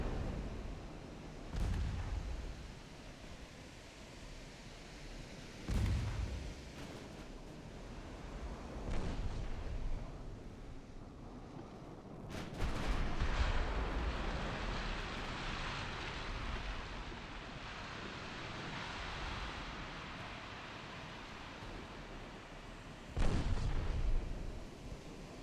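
Battleship main guns fire high explosive shells in a naval warfare video game set in 1913, several separate deep booms spaced seconds apart over a continuous rumbling sea-like background, with a heavier cluster of blasts midway.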